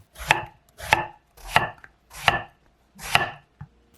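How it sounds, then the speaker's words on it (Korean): A knife chops eggplant into rounds on a board, five crisp evenly spaced thuds about two-thirds of a second apart, close and clear with no voices. "가지는 동그란 모양으로 자르세요."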